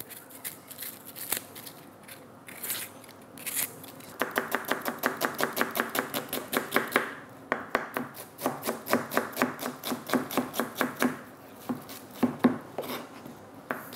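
Small knife chopping rapidly on a small cutting board, likely onion and herbs, with quick, close, crisp taps in bursts and short pauses.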